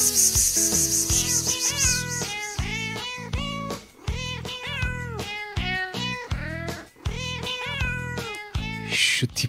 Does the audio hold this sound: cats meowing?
yes